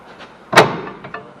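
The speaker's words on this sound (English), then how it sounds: "Hear that pop in? Slammed it right back up in there." A Ford Taurus ball joint slams back up into its seat during front hub and CV shaft replacement, giving one sharp, loud, close pop-thud followed by a couple of faint knocks, with no talking.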